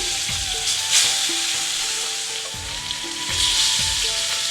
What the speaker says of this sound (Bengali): প্যানে সর্ষের তেল দিয়ে দিচ্ছি। লেজা দুটোকে ভালো করে ভেজে নিচ্ছি।